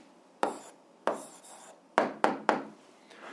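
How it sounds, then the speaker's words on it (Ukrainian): Pen strokes scratch across paper while an algebra answer is written out, a handful of short sharp scribbles with brief pauses between them, close and quiet with no talking. "записуємо відповідь, пишемо відповідь"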